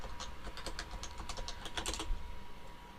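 Code being typed on a computer keyboard, a quick irregular run of close, light key clicks with a brief burst of faster strokes before trailing off, with no talk.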